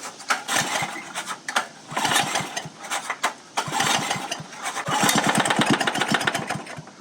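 A gas-powered pump engine, used to flush a geothermal heat pump, runs close and loud, sputtering and pulsing unevenly, then revving up into a faster, denser chugging as the throttle is opened.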